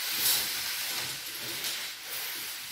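Steady broadband steam hiss from a steamer jetted onto the deformed part of a felt Cordoba hat, continuous and fairly close with no talking.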